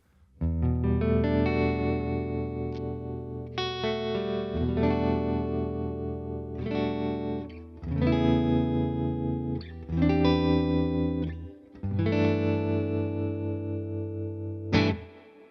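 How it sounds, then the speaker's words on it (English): Sustained electric guitar chords ring out with lush reverb and a wavering tremolo shimmer, played in separate strums with short pauses between them. "Listen to that reverb. Yeah. Just gorgeous. And the trem is really nice too."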